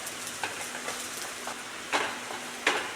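Mushrooms sautéing with chilli, turmeric and coriander powder in a pan make a soft, steady sizzle, broken by a few scraping stirs and two sharper clanks of a spoon against the pan.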